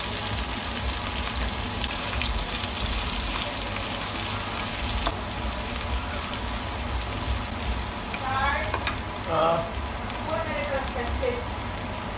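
Garlic sautés in a pan for adobo, a continuous dense sizzle like light rain, close and steady, with faint background sounds and brief tonal squeaks near the end.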